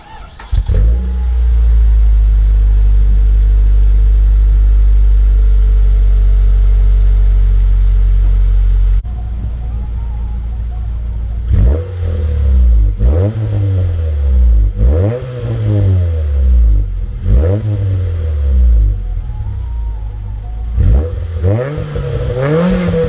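Nissan B15 with an SR20 engine and a new aftermarket eBay exhaust, first idling with a steady low drone, then revved repeatedly in loud, close bursts that rise and fall, with no talk.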